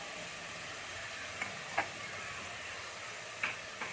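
Ginger and slit green chillies sizzle in hot oil for a chicken curry, a steady soft frying hiss with a few faint ticks and clinks of a utensil, no talking.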